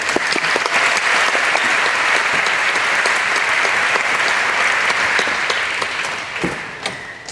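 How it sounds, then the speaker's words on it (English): Graduating students and audience at the Groves 2015 graduation applaud themselves, a loud, dense wash of clapping from a large crowd that holds steady, then thins and fades near the end. "Please give yourselves a round of applause."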